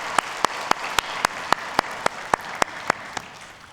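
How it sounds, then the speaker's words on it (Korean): A church congregation at a Sunday service claps in slow, even unison beats, about a dozen sharp claps spaced evenly, moderately loud over a faint room hum, with no talking. "우리 하나님께 영광의 박수 올려드리겠습니다"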